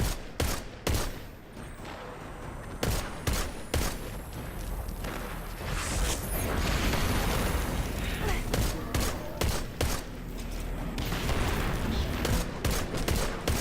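Gunfire in the video game Destiny 2 during a Crucible match, with rapid bursts of shots and repeated sharp reports throughout, mixed with game effects and occasional talk.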